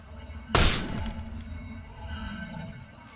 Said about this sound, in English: The glass shattered, and it was thrown backwards.